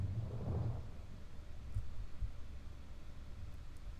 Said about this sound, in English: It's like storming outside. Was that thunder? And rain?